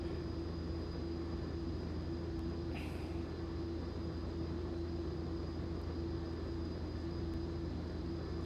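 Pilatus PC-12 turboprop engine spooling up inside the cockpit, a steady loud droning hum with a sustained tone under constant broadband noise, no talk.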